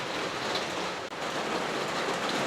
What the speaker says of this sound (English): you guys are hearing the rain